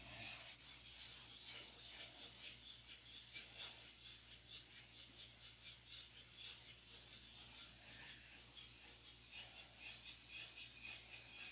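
Hand sanding of a painted surface to flatten it, a steady continuous abrasive rubbing with rhythmic strokes, close and moderately loud, with no talking.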